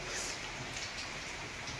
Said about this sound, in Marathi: आज भरपूर पाऊस पडला